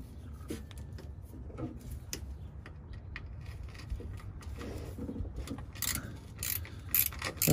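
A wrench works on the bolts of a classic VW Beetle plate during bumper removal, giving irregular metallic clicks and ratcheting scrapes that grow louder and busier toward the end, with no talking.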